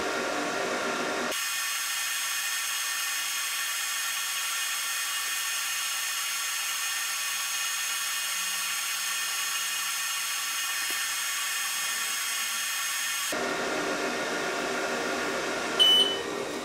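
An xTool F1 laser engraver fills in a surface, a steady high-pitched whine with an electrical hum that starts abruptly, runs unbroken for about twelve seconds, then cuts off into a quieter room.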